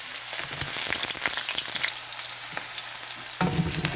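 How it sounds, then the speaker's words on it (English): Onions sauteing in hot oil in a pot for beef pochero, a loud, dense, continuous sizzle heard up close with no talking, and a brief rise in sizzle near the end. "Saute your onions or sweat it out maybe for 1 minute."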